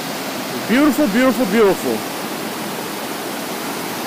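Creek water swollen by recent rain rushes steadily as a broad, even roar throughout, with a person briefly talking over it near the start.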